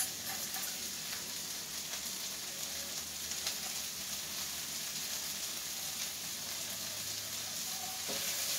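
Pepper steak meat sizzles and fries steadily in a pan with garlic just added, a continuous close crackling hiss with faint scraping stir sounds, no voices.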